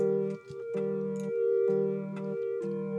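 Organ from a Silos studio session captured through its dedicated microphone: steady, sustained chords that repeat in short, evenly spaced phrases with faint clicky percussion bleed behind, clear and close with no voices.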